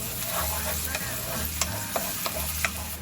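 Whole-wheat spaghetti with parsley sizzles steadily in a hot oiled pan while being stirred, a close, continuous frying hiss broken by soft scraping and a few light knocks of the utensil.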